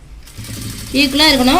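A sewing machine runs a steady low mechanical hum while stitching a 3/4-inch seam on cloth in a beginner tailoring lesson, with a voice talking over it for the second half.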